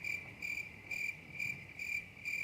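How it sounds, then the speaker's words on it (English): Crickets chirp steadily at night in a quiet outdoor setting, a faint, high pulsing trill that repeats in regular bursts roughly every half second with nothing else around it. "The crickets."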